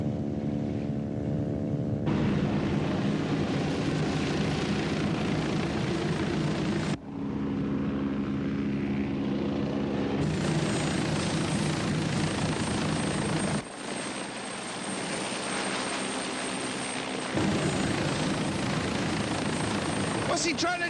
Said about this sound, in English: that's a Navy chopper